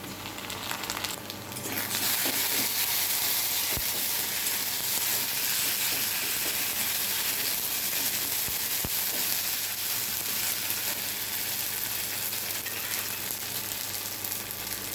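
Ginger garlic paste fries in hot oil in a pan while lentil dal is being made, a loud continuous sizzle with a few sharp clicks from stirring, steady from start to finish.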